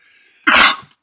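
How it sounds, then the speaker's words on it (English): A person lets out a single loud, sharp sneeze, close and abrupt after a quiet lead-in, then silence. "I sneezed."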